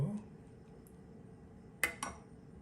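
A serving spoon clinks lightly against a pot while yogurt starter is added to a batch of milk for Indian-style dahi, giving two quick, faint metallic taps over a quiet room.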